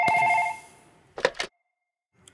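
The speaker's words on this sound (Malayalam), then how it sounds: "ഫോൺ വന്ന് തുടങ്ങി." A telephone rings in a comedy sketch: a short, bright electronic ring sounds at the start and fades, followed by a couple of brief clattering knocks and then near silence.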